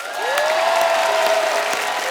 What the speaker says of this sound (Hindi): जोरदार तालियां आनंद और मिलिंद साहब के लिए